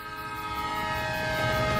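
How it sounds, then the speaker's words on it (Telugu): Arriving train with its horn sounding in a steady, sustained multi-tone blast over a low rumble of rolling wagons, loud and close, swelling slightly toward the end with no voices. "ట్రైన్ వచ్చింది, మీ నాన్న డ్యూటీ దిగుతాడేమో."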